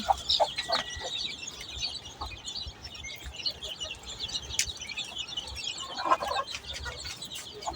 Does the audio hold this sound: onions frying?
no